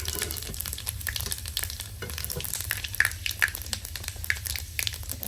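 Green chilli and panch phoron spices sizzle in hot oil for a vegetable dish. A steady, close frying hiss carries scattered crackles and pops, with faint stirring throughout.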